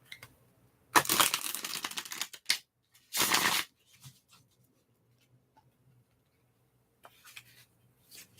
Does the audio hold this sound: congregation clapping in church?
no